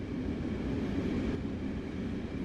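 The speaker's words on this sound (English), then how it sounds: "This train is powered by a Metrolink MP36PH-3C locomotive" A Metrolink MP36PH-3C passenger locomotive running on the San Bernardino Line in the video game Train Sim World 5, a steady, loud low engine rumble with constant rolling noise and no break.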